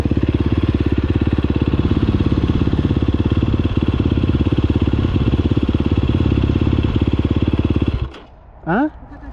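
A motorcycle engine restarted and running at a steady, loud, close idle-like drone with dense clatter for about eight seconds, then cutting off abruptly, followed by a brief sharp rising whine.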